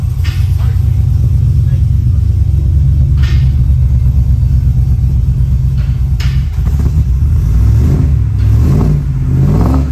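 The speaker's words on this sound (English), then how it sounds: "That's how an Escalade should sound." An 800hp LT4-swapped Cadillac Escalade revs hard, a loud, close, continuous low engine roar and rumble that rises in pitch toward the end, with brief voices in the background.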